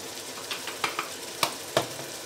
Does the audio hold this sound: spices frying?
yes